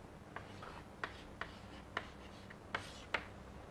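Chalk or marker taps and scratches on a lecture-hall board as a lecturer writes out a Laplacian operator, six or seven short, sharp strokes spaced irregularly and faint against quiet room noise.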